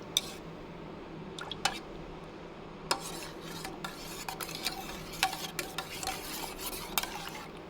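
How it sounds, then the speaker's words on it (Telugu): A spoon stirs a little curd starter into milk in a container, giving soft, close scraping and clinking strokes at an irregular pace, quiet and with no talk. "ఒక స్పూన్ వేసి సరిపోతుంది. వేసి బాగా కలిపేయాలి."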